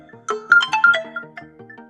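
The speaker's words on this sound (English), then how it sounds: "then you will hear a preview of how loud your ringtone will be" A short melodic ringtone preview from an Oppo Reno 12 FS phone plays as a bright sequence of chiming notes, clear and close for about two seconds.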